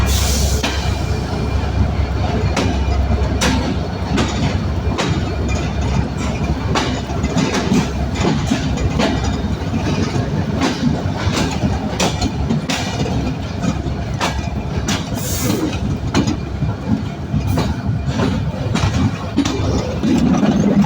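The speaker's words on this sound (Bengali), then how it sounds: "আর খুলনা থেকে এক্সিট হওয়ার পরেই কিন্তু দেখুন আমাদের ট্রেন কিন্তু সুবিশাল এক কার্ভ নিয়ে পার হয়ে যাচ্ছে।" Jahanabad Express pulling out of Khulna station in the morning and rounding a long curve, heard from on board as a loud, steady rumble with rhythmic clickety-clack wheel beats throughout.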